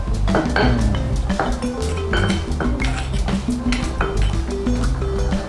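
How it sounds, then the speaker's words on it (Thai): A stone mortar and pestle being washed while making Thai roasted chili paste with pork cracklings, with a continuous run of clinks, knocks and scraping and water sloshing, close and busy throughout. "ล้างครกล้างสากเขาบอก"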